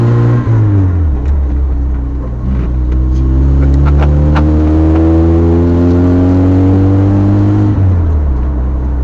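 A barely running 1988 Chevy S10 pickup's engine drones loudly from inside the cab while driving, revving up through a gear and settling, then dropping back as it slows, with a steady low hum throughout.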